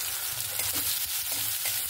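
Shrimp coated in turmeric and salt frying in a pan with onion and tomato, a steady close sizzle with soft stirring scrapes running through the full two seconds, no voices.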